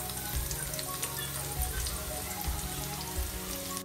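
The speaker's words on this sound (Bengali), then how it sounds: "গরম তেলের মধ্যে প্রথমে দিয়ে দিচ্ছি তেজপাতা, দারচিনি, এলাচ আর সামান্য পেঁয়াজ কুচি" Bay leaf, cinnamon, cardamom and a little chopped onion sizzle steadily in hot oil for a mutton curry, a close, dense frying crackle that runs throughout with no voices.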